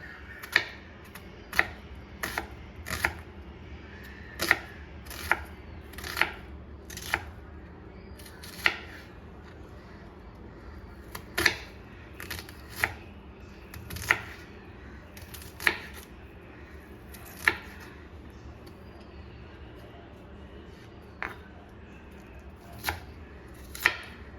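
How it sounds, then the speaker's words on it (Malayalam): An onion is chopped with a knife on a board in a Kerala-style kitchen, with sharp, irregular knocks spaced a second or two apart over a low, quiet room background. "ഒരു സവോള എടുത്ത് വെച്ചിട്ടുണ്ട് അത് നമുക്ക് ചെറുതായിട്ടൊന്ന് ചോപ്പ് ചെയ്തെടുക്കാം"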